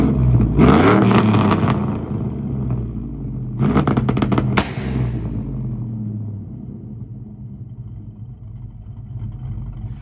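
1999–2007 Chevrolet Silverado/GMC Sierra truck engine revving loud and close, two sharp bursts of crackling rev with popping, settling into a deep steady rumble.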